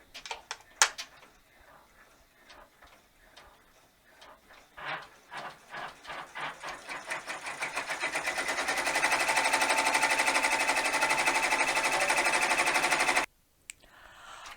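A sewing machine stitching backing fabric in place, starting with a few slow stitches, then running in a steady, rapid mechanical rattle that grows louder before stopping abruptly.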